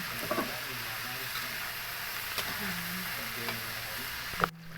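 Food frying to golden brown in a pan while being stirred, giving a steady close sizzle with scraping spatula strokes and a clank near the end; a voice talks faintly.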